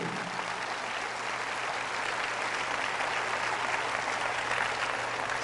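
Loud applause from a church congregation during a charismatic Catholic service, a thick, continuous roar of clapping sustained evenly across the whole stretch with a faint low hum beneath.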